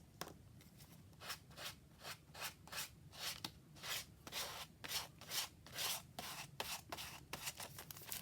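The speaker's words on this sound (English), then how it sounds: "And just scrape it on." A card scrapes medium across a junk journal page in quick, even strokes, about a dozen rhythmic rasping passes, close and quiet with no voices.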